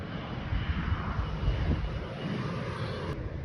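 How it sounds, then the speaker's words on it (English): An agricultural spray plane carrying several hundred gallons flies over a farm field, its engine a loud, steady broadband roar with wind buffeting, close by and with no talking. "I think they said that plane carries 400 gallon, I think"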